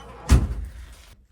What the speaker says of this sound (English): See how nice the door opened?